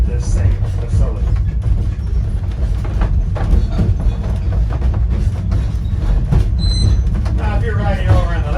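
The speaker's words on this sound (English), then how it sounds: "you're going to be able to see engine 152 pulling the train that we're riding" Steam engine 152, a 1920 coal-fired locomotive, hauling a passenger train: a loud continuous clattering rumble of wheels and carriages with a brief high squeal or whistle partway through, and people talking over it.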